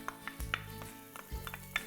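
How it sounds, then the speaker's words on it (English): Onions sizzle in a frying pan for a superfood omelette, a soft hiss broken by sharp clanks of a utensil against the pan and a few louder knocks, all close and without talk. "Oh, I love that sizzle."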